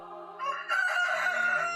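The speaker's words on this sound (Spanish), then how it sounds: "cantó un gallo" A rooster crows once, loud and close, its drawn-out call rising and holding in a clear ringing tone as part of a dramatized Gospel Passion scene, alone with no talking.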